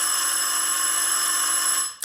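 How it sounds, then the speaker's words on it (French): A telephone bell rings loud and close in a continuous, steady electric trill for about two seconds before cutting off, followed by a short click, with no voices. "c'est le téléphone. Ne réponds pas."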